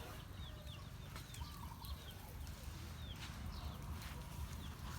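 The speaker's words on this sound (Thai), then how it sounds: "เห็นไก่ครับ" Chickens cluck faintly and intermittently in a quiet outdoor spot, their short calls thin and distant against a low background hiss.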